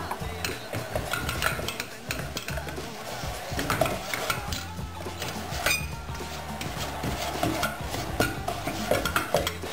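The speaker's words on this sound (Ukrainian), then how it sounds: "На середньому вогні потрібно манку смажити на маслі" Continuous stirring and scraping of semolina frying in butter in a pan over medium heat, a soft frying sizzle, with irregular utensil clicks against the metal, close and moderately quiet.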